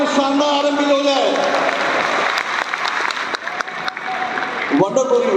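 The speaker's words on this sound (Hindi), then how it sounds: "एक जोरदार तालियां हमारी शानदार आरएम के लिए हो जाए।" An audience at a large stadium event applauds loudly for a regional manager, a dense burst of clapping over music, with an announcer's voice over the applause near the end.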